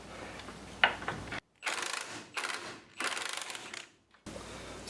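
Ratchet wrench working on 5/8 and 11/16 engine crossmember bolts, several quick bursts of clicking ratcheting separated by short silences, close and crisp.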